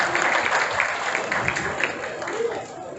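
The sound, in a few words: audience applause at a college event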